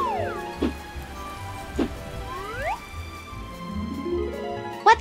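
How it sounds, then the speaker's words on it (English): Rain in a children's English lesson, rendered as bright, cartoonish drip and plink sounds with swooping tones over soft, steady rainfall, ending in a sharp louder splash; no talking over it. "It's rainy."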